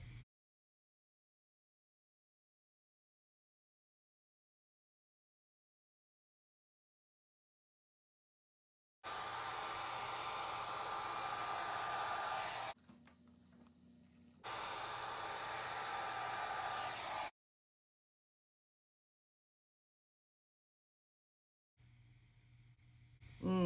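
A hair dryer blows paint across a dusty blue Dutch pour flower painting in two steady bursts of several seconds each, loud and close, separated by a short pause, with a brief restart near the end.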